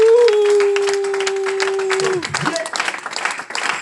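A church congregation applauds God, a burst of scattered clapping that rises after a sustained sung or held voice tone, with people's voices mixed in.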